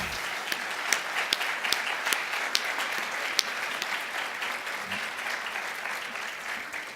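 A conference audience applauds after a talk on the renegotiation of NAFTA, with sustained, dense clapping from a large room that holds steady throughout, sharp individual claps standing out from the mass.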